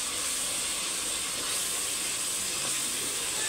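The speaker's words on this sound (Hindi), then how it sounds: "अभी मैंने डाल देना है इसमें लहसुन अदरक का पेस्ट और इसको भून लेना है अच्छे से।" Garlic-ginger paste fries in a hot pan for kaleji, giving off a steady, loud sizzle and hiss that runs unbroken from start to finish with no talking.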